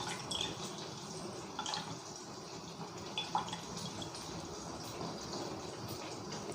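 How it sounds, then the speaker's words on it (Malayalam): Half a lemon is squeezed into a bowl of water in a kitchen, giving scattered small drips and splashes against a quiet background. "അടുത്തത് ഇതുപോലെ 1/2 നാരങ്ങ പിഴിഞ്ഞൊഴിച്ചു കൊടുക്കാം"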